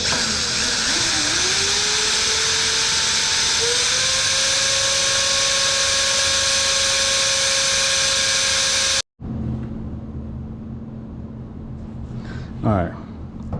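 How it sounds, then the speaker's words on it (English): A drill fitted with a 1/8 inch bit bores holes in a BMW E36 hood for track-style vents. It makes a loud, close motor whine that rises in pitch, then holds steady before cutting off abruptly, after which someone talks over quieter background noise. "Now I'm just gonna drill with your 1/8 inch"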